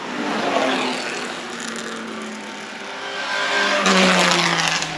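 Vintage Austin Healey race car at the Pittsburgh Vintage Grand Prix, a four-cylinder engine roaring steadily close by, rising in pitch and swelling louder toward the end as it passes, with no talking.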